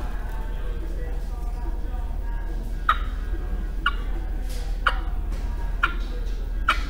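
Sharp, clipped clucks imitating a turkey hen are struck on a cut-through turkey call at roughly one-second intervals, five in a row, over a low background rumble.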